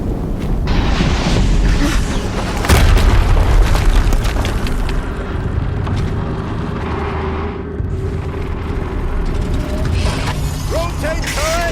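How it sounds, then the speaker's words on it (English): Explosions boom in Horizon Zero Dawn amid dense mechanical clanking and rumbling game noise, loud and continuous, with a deep blast standing out early on. "Another explosion."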